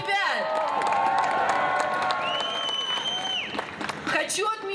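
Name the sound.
crowd applauding and cheering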